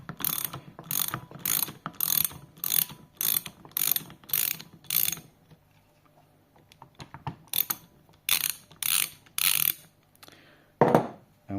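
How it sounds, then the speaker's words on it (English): A 21mm ratchet undoes a pressure washer start/stop valve, its pawl clicking in a steady run of about ten quick bursts, a pause, then several more close and fairly loud strokes. "So you get a 21mm ratchet,"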